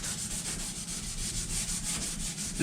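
Steady, soft scuffing and rubbing of a gray smoothing pad across a painted surface, a dry hiss moving back and forth in even strokes.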